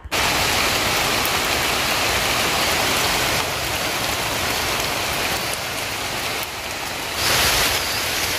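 Heavy torrential rain pours down in a dense, steady roar on nearby surfaces, loud and unbroken throughout, with no voices.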